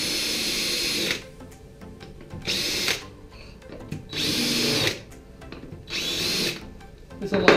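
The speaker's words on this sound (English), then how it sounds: "So what I do is I just run a little countersink in there." A power drill spins a countersink bit into a hole in a depth gauge ruler, with four loud, steady whirring bursts of about a second each, separated by short quiet gaps filled with small handling clicks.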